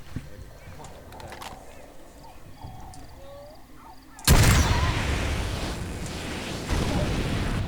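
A rocket launcher fires in Far Cry 2 with a sudden loud blast about halfway through, followed by a sustained rumbling roar that swells again near the end, after quiet ambient game sounds.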